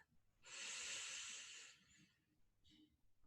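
A slow, deep inhalation during a vinyasa yoga flow, a loud breathy rush lasting about a second and a half, followed by a fainter short breath.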